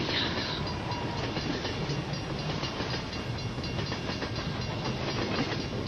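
A train rumbles past close by, a steady roar of wheels and rail noise with faint rhythmic clatter and hiss throughout, no voices.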